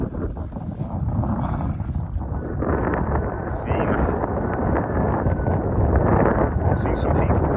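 Strong cold wind on an exposed hill in the Peak District, buffeting the microphone with continuous loud, rough rumbling gusts that swell slightly stronger toward the end.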